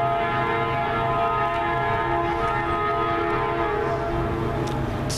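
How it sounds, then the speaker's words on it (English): A CSX freight train led by an SD70MAC locomotive rolls by slowly in a steady, continuous rumble with sustained tonal engine drone, moderately loud and close, with no talking. "This is the SD70 Mac that's leading this."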